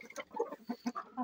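Rooster clucking in short bursts, a few low throaty clucks spaced irregularly, fairly close and moderately loud with no talk over it.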